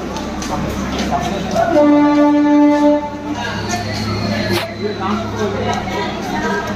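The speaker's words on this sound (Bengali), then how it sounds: "ট্রেনটা এখনই এলো বা ছেড়ে দিল।" Train at a railway station platform on the Bardhaman–Howrah line, a steady low rumble under crowd babble, with a loud sustained horn-like tone sounding for about a second mid-clip.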